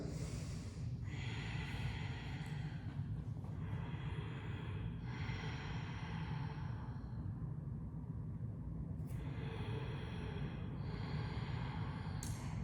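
Slow yoga breathing, with about three long, soft breaths rising and falling, quiet and close against a faint background hush.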